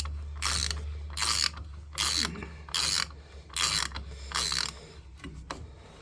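A cartridge puller cranks a worn Posi-Temp faucet cartridge out of its valve body, giving six evenly spaced bursts of loud, close ratcheting clicks with brief pauses between, no talking.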